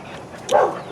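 Dog giving a single short bark or yip, arguing with the neighbor's dogs across a backyard fence, a brief mid-distance burst over quiet outdoor background.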